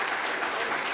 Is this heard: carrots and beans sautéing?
no